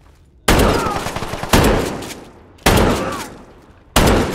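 Four loud, close gunshots from Fallout 4 ring out about a second apart, each a sharp crack trailing into a decaying boom, with no speech over them.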